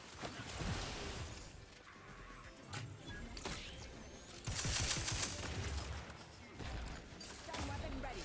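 Gunfire in the video game Outer Worlds 2 aimed at a barricade, with bursts of shots and crashing impacts over several seconds amid busy game noise.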